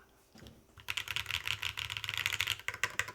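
Keystrokes on a keyboard resting directly on a bare desk during a Virgo build, a dense, fast run of close clicks after a brief quiet start, continuing steadily to the end.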